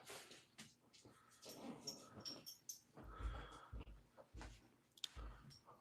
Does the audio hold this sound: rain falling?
no